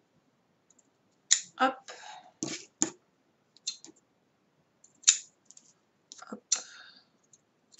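Scissors snip through paper while a personalized bookmark is trimmed, giving several short, close, crisp cuts in uneven bursts, with a few brief spoken words between them.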